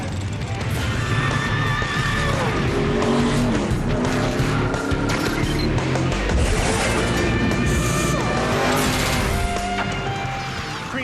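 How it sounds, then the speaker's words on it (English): Sprint cars race on the dirt track at Hanford, California, in a USAC/CRA event, engines roaring loudly and continuously with rising and falling pitch as the cars pass, and tires skidding. "last night's USAC CRA Sprint Car race at Hanford, California"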